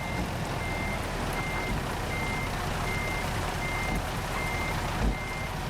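A truck in the American Truck Simulator game reverses with a steady electronic beep repeating at an even pace, heard alone over a low engine rumble.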